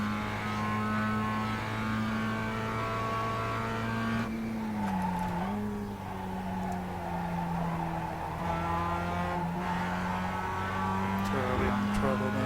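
A new Mazda MX-5 engine holds a steady, close-up drone that dips and climbs as the throttle is worked, with a brief sag near the middle before pulling back up, continuous and fairly loud throughout.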